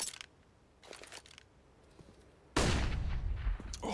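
In a professional Counter-Strike esports match, a scout sniper rifle fires with a sharp, loud crack that rings out after a few quieter game sounds, followed by a lingering burst of noise.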